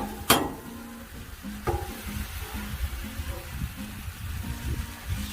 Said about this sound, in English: Here looks like it's already ready to flip.